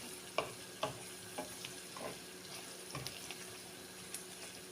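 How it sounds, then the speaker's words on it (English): Onion fries quietly in a pan under a soft, steady sizzle, with occasional sharp spatula knocks and scrapes spaced a second or so apart, close and faint, and no voices. "So I'm just gonna leave this onion to get a little bit more golden color wise"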